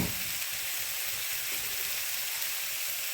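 Pre-cooked shrimp go into a stir-fry pan with chicken and set off a steady, broad hissing sizzle, even and moderately loud throughout, with no talking.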